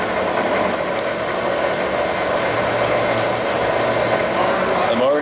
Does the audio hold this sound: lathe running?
yes